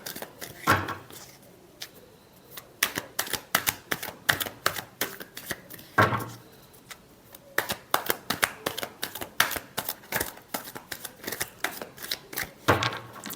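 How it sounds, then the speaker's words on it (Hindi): A deck of tarot cards is shuffled close up, giving quick riffling bursts and sharp taps that repeat in uneven clusters with short pauses between them. "Last shuffle."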